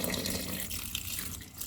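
A cup of water pours into a slow cooker for split pea dahl. The steady splashing liquid runs close and fairly loud for a short stretch, with no voices.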